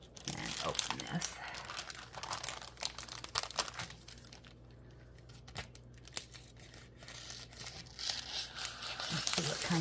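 Crinkling and tearing of plastic packaging, close up, in bursts over about ten seconds, with a low steady hum in the background.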